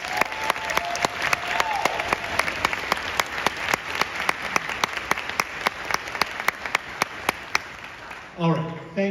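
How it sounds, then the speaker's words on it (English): An audience at a university honor band festival gives a sustained round of applause, dense clapping throughout, with a voice coming in at the very end. "Let's give her a huge round of applause."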